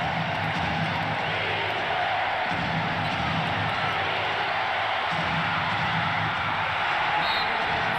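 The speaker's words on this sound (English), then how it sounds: "Look at the crowd." The crowd at a 1989 Chicago Bulls playoff basketball game sets up a dense, continuous roar of murmur and cheering throughout, with a commentary voice partly underneath.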